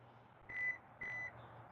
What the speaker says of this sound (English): press and hold the close button and just wait till it beeps